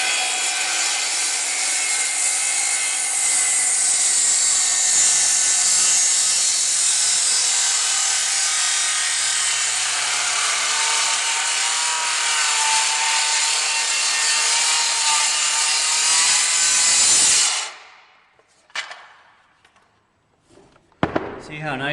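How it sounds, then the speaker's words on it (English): A Makita 5104 circular saw cuts through a 7 1/4 inch wood beam, a loud, sustained high whine of blade biting wood for about seventeen seconds before spinning down abruptly, followed by faint handling noises. "So I'm going to try to cut this 7 1/4 inch beam."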